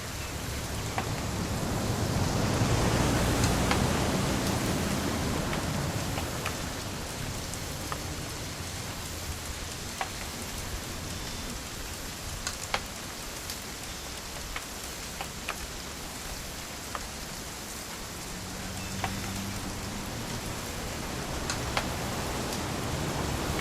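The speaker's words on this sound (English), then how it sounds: "It's gonna rain the whole weekend," Steady rainfall in the video game What Remains of Edith Finch hisses continuously, with occasional sharper drops landing nearby and a low rumble swelling early on; no voices.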